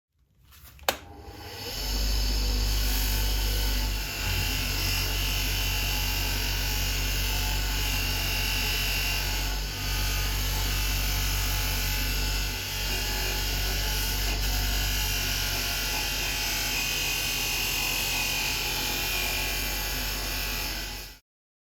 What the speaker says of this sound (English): putting this onto the buffing wheel, and I'll try to get rid of those scratches using a compound without burning into that chrome